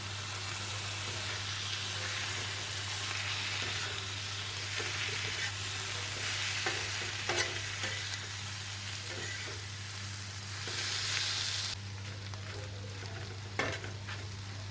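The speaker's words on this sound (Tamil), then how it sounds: "சிக்கன் குழம்பு 1/2 கப் எடுத்துருக்கேன், அதையும் போட்டுக்கலாம். நல்லா கலந்து விட்டுருங்க." Shredded kothu parotta stirred with chicken curry gravy in a hot pan, producing a steady sizzle over a low constant hum, punctuated by scraping and tapping strokes of a ladle.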